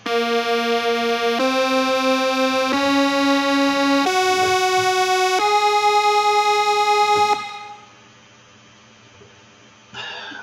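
A bright, buzzy synth melody through a saturator effect steps through sustained harmonic-rich notes, loud and distorted, then cuts off abruptly into near silence with a short blip at the end.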